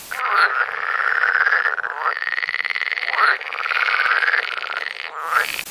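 Pac-Man frogs at a breeding farm give loud, long, buzzing croaks, several sustained calls in a row with short gaps between them, close to the microphone.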